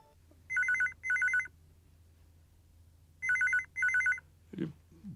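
A telephone rings in two pairs of electronic trilling bursts, evenly spaced and fairly loud over a low steady hum in a quiet room, with a brief knock or clatter after the second pair.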